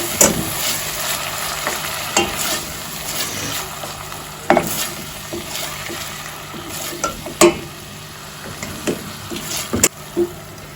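Tomato paste sizzles steadily in a hot pan while a spoon scrapes and knocks against the metal in irregular sharp taps, close and fairly loud, with no talking.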